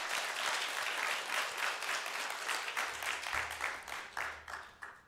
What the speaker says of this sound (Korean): 한번 큰 박수로 하나님께 영광 돌리시기 바랍니다